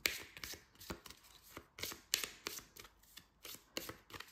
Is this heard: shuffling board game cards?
yes